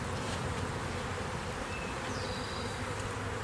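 Package bees from a homestead hive drone in a dense, steady buzz, with a few individual bees whining close by.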